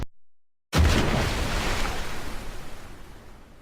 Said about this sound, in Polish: Wybuch podwodny to taki dźwięk.